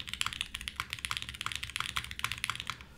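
Rapid, close typing on a custom mechanical keyboard fitted with Tangies switches and O-rings, a dense run of crisp, slightly damped clacks with no talking.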